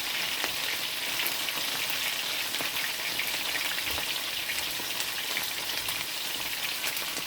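Salmon fries in about half an inch of olive oil in a pan, giving a dense, steady sizzle with scattered small pops and crackles throughout, close and continuous with no talking.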